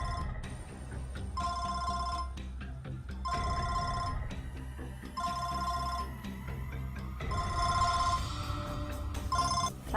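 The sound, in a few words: telephone ringing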